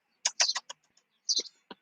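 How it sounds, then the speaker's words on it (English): A pet bird calls in a room: a series of close, sharp squawks and chirps in two short bursts, loud against silence and with no talking. "That's the bird that terrorizes Zoe"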